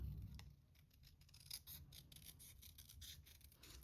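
Small snips fussy-cut around printed paper card for a cocktail-themed fold card, giving a quiet series of short crisp snipping strokes in a fairly steady rhythm, close up and alone.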